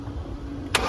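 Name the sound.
BMW X5 diesel engine cranking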